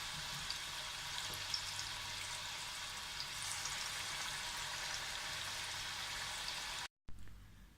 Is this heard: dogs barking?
no